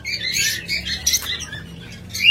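Pet cockatiels and lovebirds for sale chatter nearby in repeated shrill chirps and squawks, overlapping in short irregular bursts over a low background hum.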